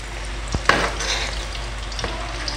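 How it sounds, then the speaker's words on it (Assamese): Chili chicken pieces coated in cornflour and flour fry in hot oil with a loud, steady sizzle, punctuated by a few sharp clicks and spatters as pieces go in one at a time. "এনেকৈ এপিচ এপিচ কৰি মই ফ্ৰাই কৰি ল'ম গোটেইখিনি"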